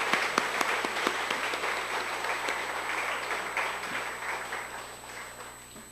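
A church congregation claps to welcome newcomers during a Sunday service, a warm burst of applause that starts with a few sharp claps, swells, then gradually fades, with a steady hum in the room beneath.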